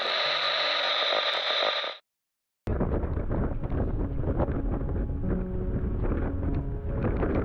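Gusty wind off the Isle of Skye is heard first as a steady tonal hum that cuts to silence, then as broadband rumble and buffeting with irregular gusts that stays loud to the end.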